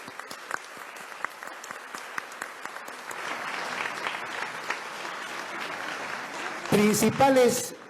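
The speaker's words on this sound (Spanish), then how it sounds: "a quien pido un aplauso" An audience applauds at an official address, beginning as sparse scattered claps that swell into a steady, moderately distant round before a voice cuts in at the end.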